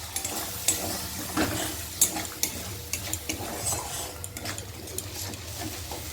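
Thick spice paste scraped and stirred around a hot pan with a spatula, a soft sizzle under a steady run of clinks and scrapes, close by with no voices.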